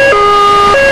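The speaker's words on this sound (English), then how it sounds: "Ajay hamagara ambulance" Loud ambulance siren from a film soundtrack, a steady two-tone wail that steps from a higher pitch down and back up, close and filling the whole moment with nothing else heard.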